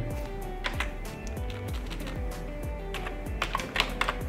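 Steady typing on a computer keyboard, close and fairly quiet, with irregular key clicks and a few quicker bursts, no talk over it.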